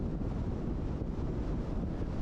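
Wind buffets the microphone outdoors in southern Arizona on a gusty day, a loud, steady low rumble with no let-up.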